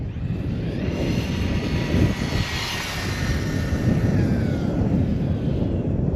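An RC rock crawler's motor on a 4S battery runs with a steady, loud whine, a broad rushing roar and a high-pitched tone riding on top, close to the listener.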